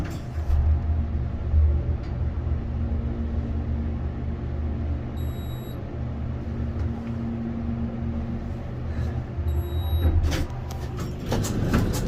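An old, small Otis hydraulic elevator runs with a steady low rumble and hum, with a few brief clicks and clunks near the end.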